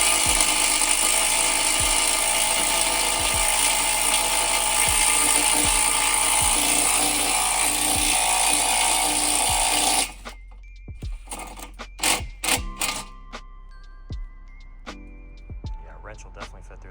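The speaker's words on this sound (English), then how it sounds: "we're gonna drill a hole right through here, hole right through here" A power drill whines loudly and continuously as it bores a hole behind the grille of an Infiniti G37 for a spotlight install, with faint periodic clicks underneath, then cuts off, leaving scattered knocks and handling sounds.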